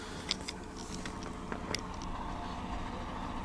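A sewage pump truck running outside a frame house, heard from indoors as a low, steady engine rumble with faint scattered clicks and knocks over it.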